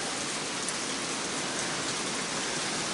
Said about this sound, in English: Yeah, it'll start raining.